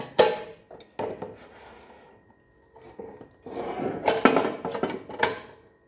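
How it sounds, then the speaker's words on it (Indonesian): The loose metal legs of a WS-100 portable gas stove clank and rattle in irregular bursts as it is shaken, a few sharp knocks, then longer jangling clatter, close by with no voices. "ini ketika goyang-goyang itu bunyi kelontang-kelontang gitu"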